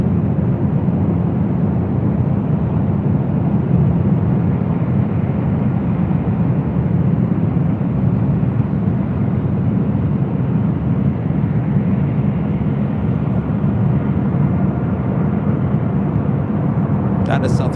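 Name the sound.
Southwest Airlines Boeing 737-700 jet at LAX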